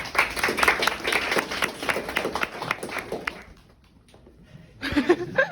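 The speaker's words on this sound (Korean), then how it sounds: "박수 주세요." Audience clapping at a filmed reading event in a Korean high school, lively applause with some laughter that stops abruptly, then brief voices after a pause.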